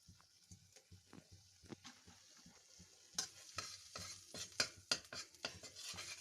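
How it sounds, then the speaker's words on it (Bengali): A spoon of ghee in a kadai is stirred while it melts and faintly sizzles, the utensil giving soft repeated scrapes and taps that grow busier toward the end, low and close. "প্রথমে 1 চামচ মতো ঘি দিয়ে দিয়েছি কড়াইয়ে"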